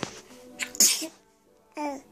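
A single loud, close sneeze bursts out amid soft child babbling and small vocal sounds, with a young voice chattering again shortly after.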